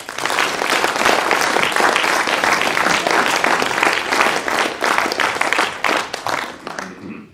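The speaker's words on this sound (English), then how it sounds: "all I can say is please clap for them." Audience applause for student racing team members at a university motorsport launch event: dense, sustained clapping from a sizeable crowd at even loudness, tapering off in the last half second.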